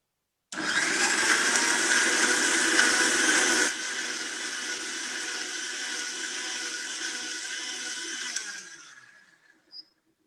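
A kitchen blender grinds almonds with water for a vegetable smoothie, whirring loudly and steadily for about eight seconds. Its pitch shifts partway through as the load eases, then it winds down and stops.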